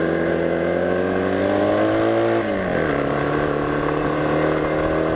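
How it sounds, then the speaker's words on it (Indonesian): A car's ordinary exhaust drones steadily while driving along the Naringgul–Ciwidey mountain road, a loud continuous engine note that dips slightly in pitch midway as the driver shifts, with no talking. "Nggak tahu ini suaranya gandeng nggak, berisik nggak, suara knalpot biasa"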